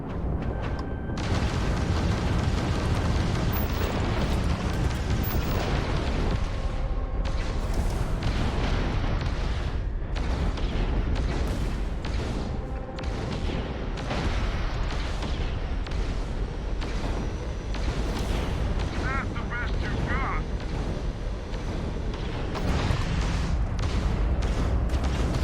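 Dense, continuous barrage of booming blasts and weapon fire during spaceship combat in Starfield, loud and unbroken throughout with layered bursts and rumbling detonations.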